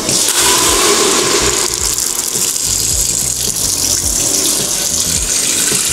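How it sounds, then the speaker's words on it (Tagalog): Water pours from a tap into a pot filled for boiling pork, a loud, steady close-up gush that runs without a break the whole time. "Bigay tayo ng tubig, umapaw pa."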